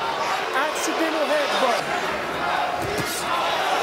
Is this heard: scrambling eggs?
no